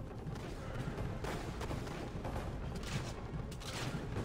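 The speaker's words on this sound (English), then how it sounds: "I did shoot a cannon at it." Cannon fire from an Assassin's Creed Revelations tower defense battle booms and crackles in a dense, continuous wash of gunfire and explosions, steady and fairly faint with no clear gaps.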